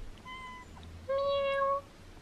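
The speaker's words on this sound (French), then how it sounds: "qu'il est beau ce petit chat" A small cat gives two clear meows close by, a shorter one followed by a longer, louder one, in otherwise quiet surroundings.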